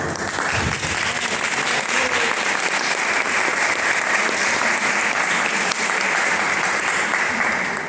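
Steady, loud audience applause at a conference book presentation on AI, dense clapping that holds evenly throughout with no speech over it.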